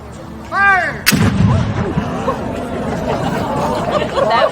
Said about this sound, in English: as they get ready to fire that cannon.